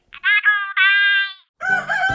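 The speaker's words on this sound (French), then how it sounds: "Au chant du coq" A rooster crows close and loud, a stuttering start followed by one long drawn-out call, then a short pause and a rougher, noisier second burst.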